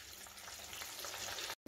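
Potato samosas fry in hot oil, a dense, even bubbling sizzle that holds steady close by and then cuts off abruptly at the end.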